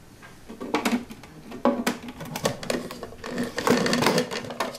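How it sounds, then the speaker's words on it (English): A food processor chopping a big bunch of basil with stalks for pesto, loud close bursts of whirring and rattling that start and stop in pulses. "the larger stalks from a big bunch of basil and place it in the food processor"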